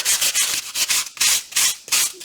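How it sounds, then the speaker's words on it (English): A sanding block rubbed back and forth over coffee-dyed paper, giving close, steady, rhythmic scratchy strokes of roughly even length with brief pauses between them. "Let's try with that bird and the sanding block."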